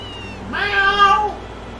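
A single drawn-out, rising-then-falling meow from a cat in the farming video game Harvest Moon: A Wonderful Life, clear and close against a quiet background hum.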